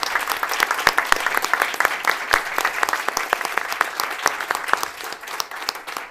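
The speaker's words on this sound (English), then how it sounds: "With that, a warm applause to everybody." Warm applause from a conference audience at a life science networking event, dense steady clapping that holds for several seconds and then thins and softens toward the end.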